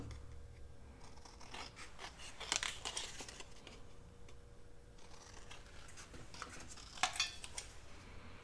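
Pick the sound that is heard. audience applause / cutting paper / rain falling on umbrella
cutting paper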